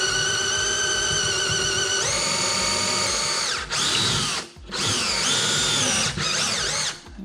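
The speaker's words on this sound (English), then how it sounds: "to drill the long screw through it and into the side to" A power drill whines loudly up to speed and holds a steady high-pitched drone, bogging and pausing a few times as it drives a long screw through kitchen cabinet wood.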